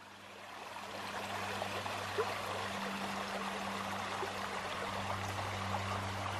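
Steady rush of a stream flowing in a redwood forest, a continuous broadband wash of water that holds constant throughout, with a low steady hum beneath and no voices.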